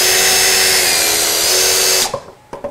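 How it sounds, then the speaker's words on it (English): An impact drill spins a small 3D-printed boat propeller, a loud, steady high whine for about two seconds that cuts off abruptly, followed by a few faint clicks and knocks. "I'm just using a impact drill here to give it some spinning power"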